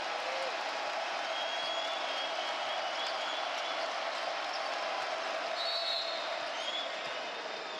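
A college basketball crowd at an NC State Wolfpack NIT home game against Hofstra roars in a sustained, even wall of cheering, with faint sneaker squeaks and a commentator talking over it.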